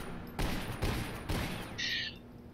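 Rapid weapon fire in the arena shooter video game Toxikk, a few loud bursts of gunfire in quick succession with an electronic game tone near the end, no talking.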